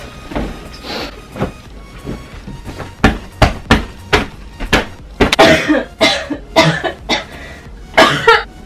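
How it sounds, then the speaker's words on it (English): A rapid run of harsh, explosive coughs, sparse at first then coming in quick clusters, close and loud with no talking. "I just had a cough attack."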